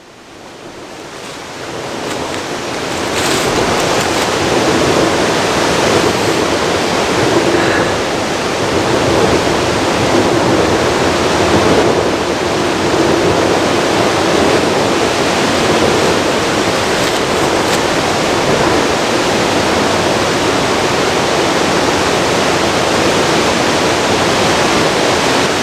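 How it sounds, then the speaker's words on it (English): Strong wind blows steadily outdoors at a reportedly haunted site where orphans died in a fire, a loud continuous broadband roar that rises after a quiet start and holds for the rest of the stretch, with no talking. "it's very windy out here"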